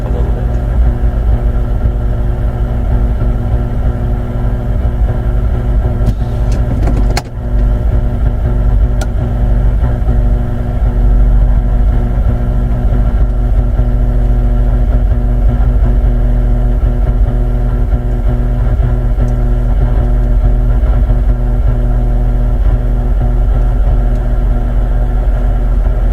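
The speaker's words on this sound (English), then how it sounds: "Let's see what happens as I back out of my driveway here." A warmed-up car backs slowly out of a home driveway, its engine giving a steady, close, low rumble throughout, with one brief sharp click partway through.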